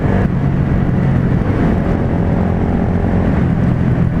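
A Honda MSX 125 motorcycle runs while being ridden, giving a steady, loud engine drone mixed with wind rush, constant and close with no breaks.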